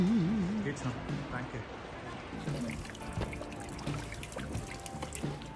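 Natural spring water flowing from a fountain in Hallstatt, a light trickling pour heard beneath nearby talking and background activity.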